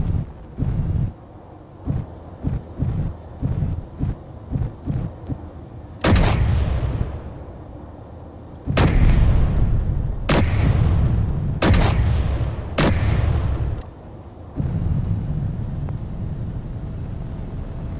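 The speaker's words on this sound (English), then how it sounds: "some bullets coming in at me" In Space Engineers, bullets strike the player in a run of rapid light impacts, followed by several loud, sharp bursts of fire that ring out one after another over wind-like noise.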